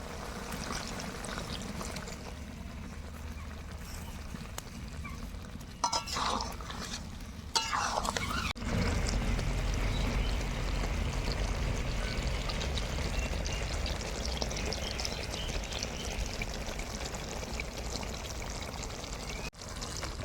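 Thin broth pours into a pot of lemon chicken curry, a steady, close stream that turns louder and fuller partway through and runs on without a break.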